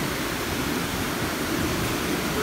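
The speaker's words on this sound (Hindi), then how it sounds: "देखो पानी कैसे गिर रहा" Water pours steadily at a roadside waterfall on the Ambaji road near the Gujarat-Rajasthan border, a continuous broadband rush with no breaks and no voices over it.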